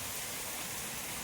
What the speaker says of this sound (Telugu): బట్ ఇక్కడ మాత్రం వర్షం చావగొట్టేస్తుంది